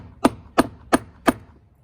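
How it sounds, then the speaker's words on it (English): Four evenly spaced sharp taps sound as a chisel is struck into wood along a line to score it while a door striker plate is being moved, each tap crisp and close with short gaps. "I'm going to take a chisel and tap it in on this bottom line just to score the wood"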